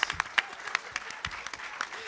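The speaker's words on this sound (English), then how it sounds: "Let's have a big old round of applause for our guest contestants." Audience applause at a live Ultimate Werewolf game show at PAX West for the guest contestants, heard as a short, fairly faint patter of scattered claps with no one speaking.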